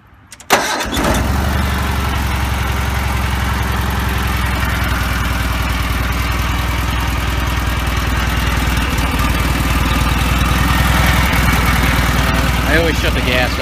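Cub Cadet 782 garden tractor engine cranks and catches within the first second, then settles into a loud, steady, close-up idle with an even mechanical chug.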